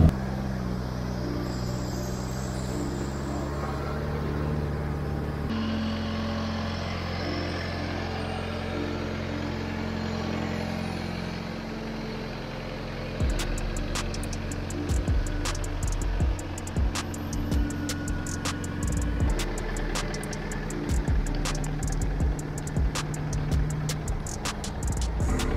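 Jeep TJ engine runs steadily with a deep, continuous drone, its pitch rising partway through as the throttle opens. Sharp clicks and knocks sound over it in the second half, with no voices.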